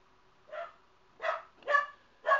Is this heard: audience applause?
no